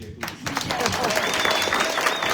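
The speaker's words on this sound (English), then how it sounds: "can you everybody clap" Conference audience at an academic plenary session claps for a named organizer, with steady, dense applause that builds after a brief pause and holds, while faint voices and a whistle-like tone sit underneath.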